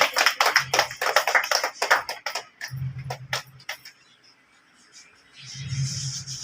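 An audience at a Rabindra-Nazrul evening function claps in brisk uneven bursts, fading out and then returning, with quieter gaps and a low hum in between.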